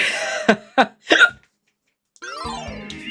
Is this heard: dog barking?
no